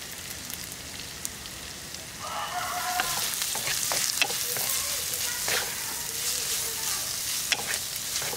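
Onions and curry leaves fry in hot oil in a pan for a Kerala-style varal fish curry, a steady close sizzle that grows louder partway through, with occasional crackles and stirring clinks.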